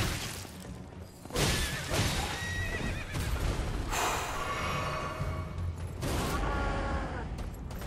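A horse in the Elden Ring video game whinnies loudly and repeatedly over clopping hooves and clanking combat noise, filling the whole stretch without talk.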